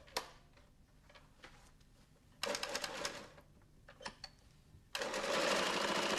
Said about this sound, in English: To sew up the mitre fold, raise the top roller and put 2 to 3 stitches into the Perlon velour tape